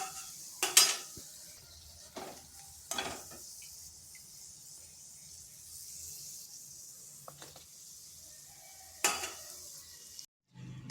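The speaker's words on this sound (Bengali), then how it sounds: "এইভাবে আমি সবগুলো ভেজে নিচ্ছি।" Flour and coconut biscuits frying in a pan, a faint low sizzle broken by a few sharp utensil scrapes and clinks against the pan, quiet between strokes.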